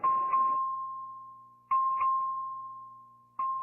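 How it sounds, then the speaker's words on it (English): Voting bell in a state legislature chamber, rung by the clerk: three clear electronic dings, each decaying slowly over a sustained tone, spaced irregularly with the last cut short. "Clerk, ring the bell."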